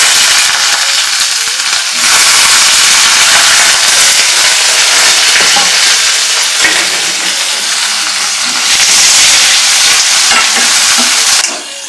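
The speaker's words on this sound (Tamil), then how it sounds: "ஒரு 2 நிமிஷம் வதக்குனா போதும்" Loud, steady sizzling and frying of onion and potato in a hot pan with stirring scrapes, continuing the whole time with no talking.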